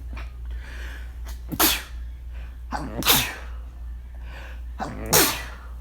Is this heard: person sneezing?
yes